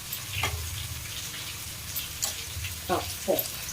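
Dried fish (karuvadu) sautéing in a pan for karuvadu thokku, a soft low sizzle with a few scattered clicks of a spoon against the pan, close and fairly quiet throughout.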